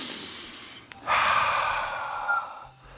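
A deep, drawn-out breath, a short intake followed by a long, steady exhale lasting about two seconds, close and fairly loud with no talking.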